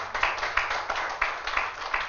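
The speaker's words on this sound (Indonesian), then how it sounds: "Tepuk tangan untuk Tuhan Yesus." Rhythmic clapping from a church congregation during a worship service, a quick steady beat of group claps, moderately loud and close, with no voices over it.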